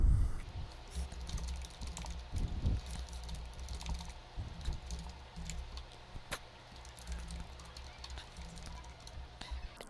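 Account details such as name, email and password are typed quickly into an online seller sign-up form on a computer keyboard. The keystrokes are faint and fast under a low hum and background murmur of voices.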